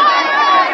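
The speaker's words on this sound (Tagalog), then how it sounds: "Grabe sigawan, ha?" A large rally crowd for Vice President Sara Duterte shouts continuously, a dense, loud, unbroken roar of many voices filling the whole moment.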